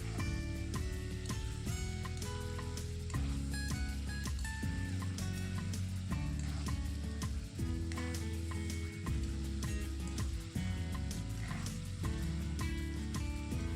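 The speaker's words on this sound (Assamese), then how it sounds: "মাংসখিনি 5-6 মিনিটমানৰ কাৰণে হাই ফ্লেমত লৰাই ভাজি থাকিব লাগিব।" Chicken pieces stir-frying in oil on high flame for a home-style dry fry, a dense continuous sizzle with scraping and clatter, steady and close, no talk.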